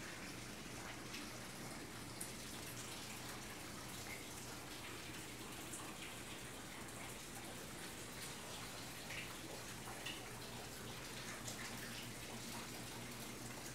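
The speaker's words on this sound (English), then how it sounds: "Water. Water," Water runs steadily from a tap in a nursery setting, a constant faint splashing hiss that carries unbroken throughout with no talking.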